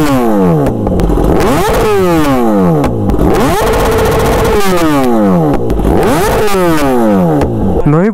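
A Kawasaki ZX10R sportbike with an SC Project S1 exhaust revs hard and loud, repeated sharp rising and falling blips of the engine, close by with no talking.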